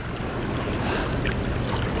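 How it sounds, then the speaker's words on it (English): Waves slap and splash against a small fishing boat on the lake at Center Hill Dam, a loud, continuous wash of water and wind with no voices over it. "Oh, there goes a big wave."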